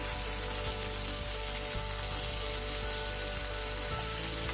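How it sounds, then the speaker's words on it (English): Burgers sizzle steadily in a hot pan after being flipped, a dense, even frying hiss with faint crackles throughout and no talking. "moving over here to our burgers, and it's time to flip"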